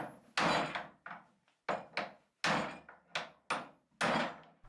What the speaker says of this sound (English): What we want to do is square it up with a hammer or your Land Rover adjusting tool